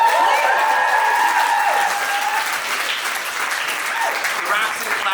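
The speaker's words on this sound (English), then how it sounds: "Give it a clap to them." An audience at a live poetry festival gives a sustained round of applause, steady dense clapping throughout with a raised voice or whoop over it near the start.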